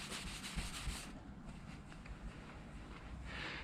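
Steady, close-up rubbing and squeaky friction of a clay bar on an MG Midget's paint, a continuous gritty scrubbing with faint rhythmic strokes and no speech.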